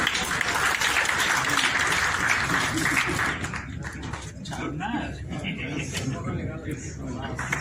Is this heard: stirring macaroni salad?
no